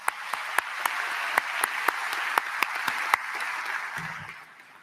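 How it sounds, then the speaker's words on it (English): Applause from a graduation audience at an evening ceremony, a steady wash of many hands with a few sharp nearby claps standing out, fading near the end. "Can you help me give them a round of applause?"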